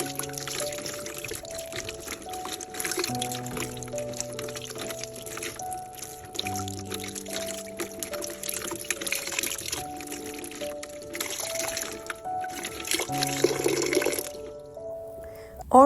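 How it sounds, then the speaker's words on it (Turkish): An orchid is rinsed under a running kitchen tap, the steady pour and trickle of water continuing throughout beneath prominent background music. "Orkideyi çeşmede bol su ile iyice yıkıyorum."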